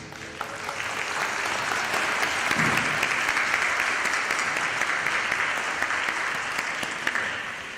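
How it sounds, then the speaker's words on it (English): A crowd of graduates and guests at a high school equivalency commencement ceremony breaks into sustained applause, dense steady clapping that builds quickly and holds at an even level for several seconds. "Give yourselves a round of applause."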